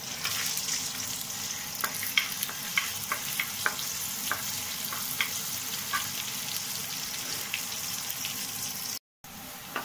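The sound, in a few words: garlic and green chillies frying in a pan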